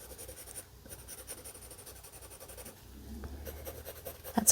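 A charcoal pencil rubs and scratches across paper during a portrait drawing, a continuous soft rasping of quick, uneven strokes that sits close and fairly quiet throughout, with no talking.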